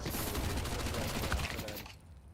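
Rapid FAMAS rifle fire in a Counter-Strike style match, a dense burst of close shots for about two seconds that cuts off abruptly, with no talking over it.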